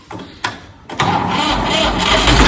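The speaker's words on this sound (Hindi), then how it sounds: "अब देखो ये ट्रैक्टर होता है स्टार्ट" A tractor engine cranks with a couple of short bursts, then catches and settles into a steady, loud diesel rumble that builds slightly.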